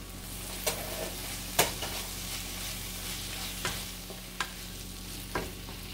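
A spatula scrapes and taps against a pan in irregular strokes, stirring grated paneer over a low, steady sizzle of frying food.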